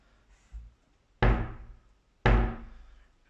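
A poorly made wooden cupboard door that won't shut properly, in an empty house, gives one soft knock followed by two loud, sharp bangs about a second apart, each fading quickly, with no talking.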